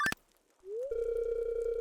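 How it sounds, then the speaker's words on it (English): A phone rings in the Stardew Valley farming game: a short click, then a tone that slides upward into a steady, loud electronic ring with bright overtones that holds to the end. "Oh, phone's ringing."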